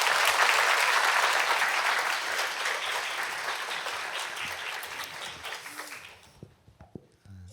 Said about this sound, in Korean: 뜨거운 박수로 맞이하시겠습니다.